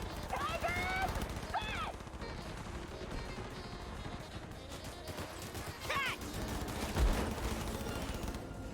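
Gunfire in the video game Cyberpunk 2077, rapid crackling bursts spread through the scene, mixed under other game sounds and voices, with one heavier thump near the end.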